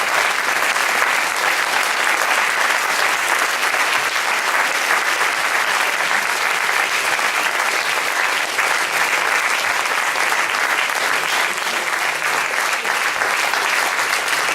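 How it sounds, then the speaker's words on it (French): An audience claps loudly and steadily for a hair salon team at a haute coiffure awards event, a dense, even wall of applause lasting throughout with no pauses. "Et bien entendu, Serge Moreau, on peut applaudir très très fort."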